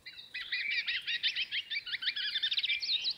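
A Hawaiian amakihi calls close by in a Maui native forest, a rapid, continuous run of high chirping trills lasting about three seconds over quiet forest ambience.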